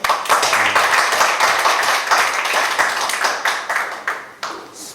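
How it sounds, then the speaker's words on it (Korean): An audience claps for a speaker being welcomed at a lecture on corporate press and publicity techniques. The dense, steady applause thins into scattered claps toward the end, with a few voices mixed in. "큰 박수 부탁드리겠습니다"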